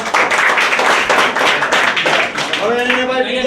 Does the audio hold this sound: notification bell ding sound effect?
no